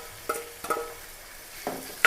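Onion, green chili and crushed ginger sauté in a pan with a soft, quiet sizzle, broken by a few scraping stirs of a spoon.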